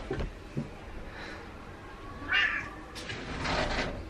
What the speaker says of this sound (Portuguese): ele vai continuar a miar, que ele quer atenção